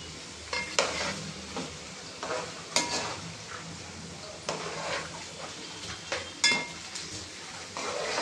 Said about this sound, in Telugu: ఫస్ట్ అయితే ఆనియన్స్ని ఫ్రై చేసుకున్నాం.